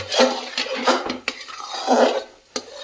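Spoon scraping and stirring thick reducing milk mawa in a pan for Mathura-style pedas, with repeated scrapes and clinks about every half second, close and fairly loud, alone without talk.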